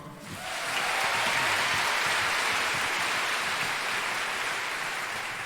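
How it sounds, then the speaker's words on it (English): An audience at a 2017 fashion show gives the designers a round of applause, clapping that swells within a second into a broad, sustained roar of many hands and continues steadily to the end. "can we have a round of applause for all the designers so far?"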